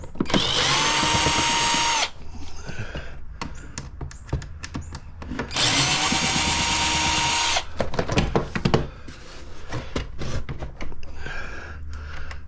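A power drill backs screws out of an H-Calory diesel heater being scrapped, in two long loud whirring bursts separated by clattering handling and tool knocks.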